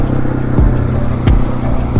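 A supermoto motorcycle, a roughly 75-horsepower 701 SM, runs close by with a steady engine drone, broken by a few quick revving swells and short clattering bursts.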